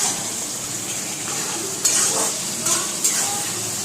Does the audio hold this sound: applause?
no